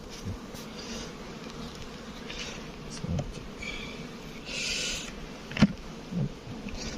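Honey bees buzz steadily around an open beehive, a continuous low drone with a few louder passes close by and soft handling knocks, no talk.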